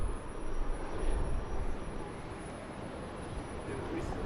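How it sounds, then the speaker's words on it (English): A Boeing 737 MAX 8 takes off at Brisbane Airport, its jet engines a faint, distant broadband roar that holds steady and eases slightly toward the end. "Another beautiful 737 MAX taking off."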